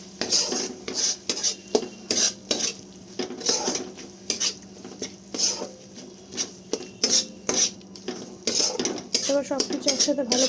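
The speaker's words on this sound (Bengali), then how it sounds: "এবার সব কিছু একসাথে ভালো করে আমি নেড়ে ছেড়ে নেব" A spatula scrapes and clinks rhythmically against a pan while mushroom masala with red chilli powder is stirred, sharp metallic strokes repeating every half second or so over a quiet background.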